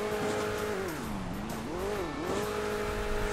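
Sports racing car in the mobile game Hill Climb Racing 2, a steady loud engine drone whose pitch sweeps down and back up twice as the car speeds along, with tyre squeal layered over it and no talking.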